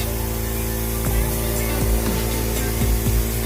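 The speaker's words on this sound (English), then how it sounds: "So you can hear the compressor in the background." A steady mechanical hum from an air compressor drones throughout, with a few short hissing bursts of paint spraying on top.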